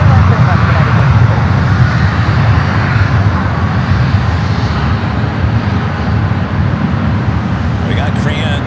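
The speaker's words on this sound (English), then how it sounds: "We got Korean, the Dreamliner now rolling down to 28 right" A Korean Air Boeing 787 Dreamliner rolls for takeoff on runway 28 Right at San Francisco airport, giving a steady, loud jet engine roar that holds throughout with broadband rumble, under faint radio chatter.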